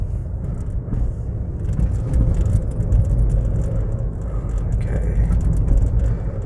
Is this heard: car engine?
yes